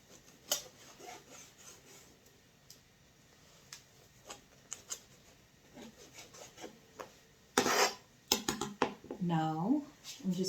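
Knife slicing food lengthwise into 1 centimeter pieces on a board, giving soft scattered taps and short rasping strokes, with a few louder knocks near the end; a voice is heard speaking.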